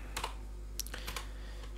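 Fingers tap a computer keyboard while text is typed into a file on a Raspberry Pi, a few quick, faint clicks in short bursts against a quiet steady hum.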